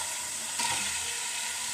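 Chopped onions sizzle steadily in a hot pan while a chicken dish is being cooked, a continuous close frying hiss with a slight swell partway through and no talking.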